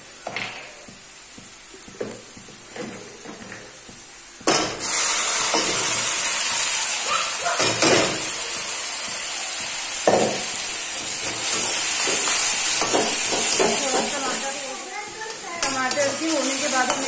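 Ground tomato tipped into fried onions in a hot pan, which bursts into a loud, steady sizzle and hiss after a few quiet stirs, with stirring clatter and a voice speaking over the frying.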